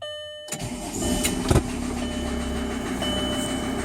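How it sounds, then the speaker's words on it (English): A VW car with an 01M automatic transmission starts at close range: a short cranking burst catches into a steady, loud idle that runs on evenly, with no talk. "Now I'm just going to start it up at idle."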